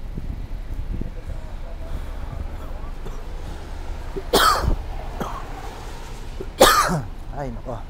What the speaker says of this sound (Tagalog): ubo na ako guys.